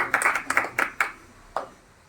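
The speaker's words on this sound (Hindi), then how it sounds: "कृपया जोरदार तालियों से आपका स्वागत अभिनंदन" A few scattered hand claps ring out, brief and sparse, fading to near quiet after a couple of seconds, at an Arya Samaj weekly satsang and yajna gathering in Amroha.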